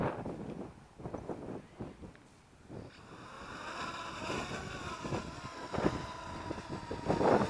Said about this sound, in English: The wind is trying to push that drone, and that drone is handling it very well.